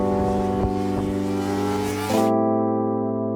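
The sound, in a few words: Honda CBR650R four-cylinder motorcycle exhaust revving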